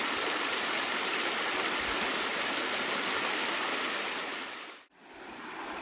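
Glacier stream water rushes steadily at a crossing, a loud, continuous broadband roar that briefly dips near the end before returning.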